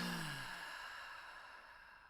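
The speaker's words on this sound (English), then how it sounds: "Take a deep breath with me." A single deep breath is slowly exhaled during a guided breathing moment at a spiritual gathering, a soft, close sigh that fades out over about two seconds.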